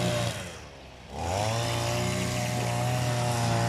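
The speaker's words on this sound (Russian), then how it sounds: "Обкатка новой газонокосилки." A new lawn mower in its break-in run drones steadily nearby. Its engine dips briefly near the start and then holds an even, buzzing hum, with no voices.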